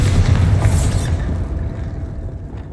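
Confringo and Bombarda spell explosions in the video game Hogwarts Legacy: a loud, deep rumbling blast that slowly fades into a low decaying roar.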